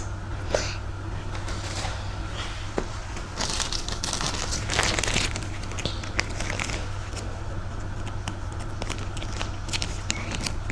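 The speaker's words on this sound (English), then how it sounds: "the plastic bag goes away" A plastic bag from a Lego set crinkles and rustles close up in irregular bursts, with sharp little crackles over a steady low hum.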